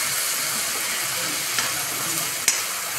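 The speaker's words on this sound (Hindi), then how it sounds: "हरी मिर्च और अदरक का पेस्ट डालेंगे फ्रेंड्स" Green chili and ginger paste hitting hot oil in a kadai while cooking paneer sabji: a loud, continuous close-up sizzle and frying hiss with a couple of brief clinks of stirring.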